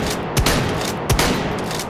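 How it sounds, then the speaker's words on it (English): Two heavy shotgun blasts from the VR game H3VR, under a second apart, each a sharp boom followed by a long rumbling echo. "there's actually a few new shotgun shot sounds"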